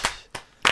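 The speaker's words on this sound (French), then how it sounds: "Je m'applaudis." Three sharp hand claps, evenly spaced within a second, close and crisp with short silences between them.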